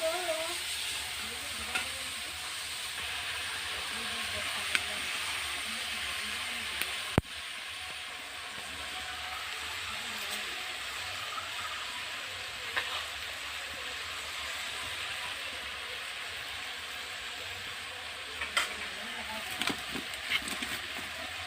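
Khichdi with turmeric, salt, ground cumin and panch phoron gets stirred in a pan, giving a soft continuous sizzle broken by occasional scraping and clicking of a spoon, quiet and steady throughout.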